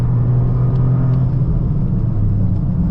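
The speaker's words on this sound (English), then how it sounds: "That's full throttle, 3rd gear." A 2025 Toyota GR Corolla accelerates at full throttle in third gear, a loud, steady engine rumble and drone heard from inside the cabin, with no talking.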